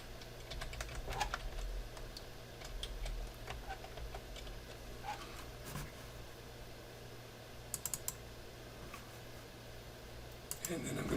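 Keys tapped on a computer keyboard at a desk while entering data, a faint irregular patter of light clicks that runs throughout, with a few sharper taps later on.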